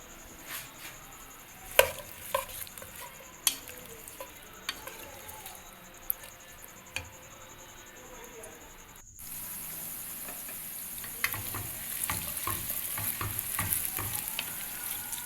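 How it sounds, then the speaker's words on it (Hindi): Taro (arbi) fries in a pan over a wood-fired chulha, with a faint, even sizzle broken by scattered clicks and scrapes before a louder, denser hiss of frying takes over. "यहाँ अरवी अच्छे से फ्राई हो चुकी है।"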